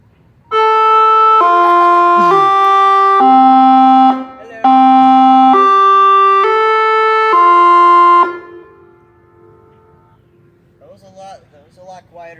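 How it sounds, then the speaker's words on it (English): Lexington outdoor warning siren system test: a loud, steady multi-tone siren chord sounds for about eight seconds, pitch stepping up and down with a brief dip midway, then fades as people talk nearby. "This is the monthly test of the outdoor warning siren system."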